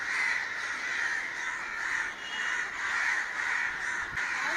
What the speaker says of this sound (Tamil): மேலே பாருங்க எவ்வளோ காக்கா